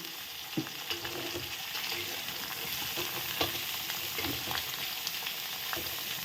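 Spice paste of ginger, onion, garlic, green chilli and tomato frying in hot oil with dried red chilli, a steady close sizzle broken by occasional sharper crackles and stirring clicks, no voices.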